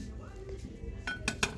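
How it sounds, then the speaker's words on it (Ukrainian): Large ceramic dinner plate with a 26 cm diameter, handled in a shop, giving a few bright clinks and knocks, with the sharpest two near the end, over a busy background hum. "І ось така велика тарілка."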